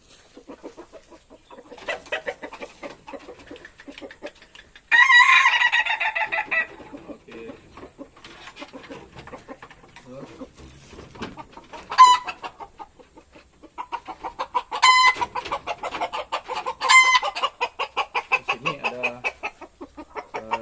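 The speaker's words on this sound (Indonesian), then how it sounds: "koleksi juga ayam ketawa tipe dangdut ya" Several laughing chickens (ayam ketawa breed), including the dangdut crowing type, cluck and crow with drawn-out, warbling calls, one loud burst standing out, repeated over a quiet background.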